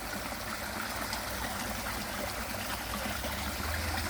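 Water from a garden pond waterfall pouring over a new spillway, a steady broadband rushing and trickling flow, close and continuous with no voices.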